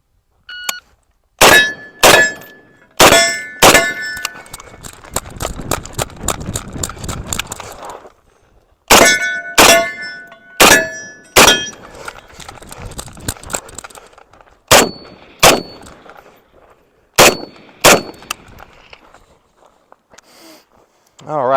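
An M1A rifle fires a course of fire at steel targets, loud spaced shots each followed by a ringing metallic clang, in clusters separated by pauses, outdoors with some talking in between.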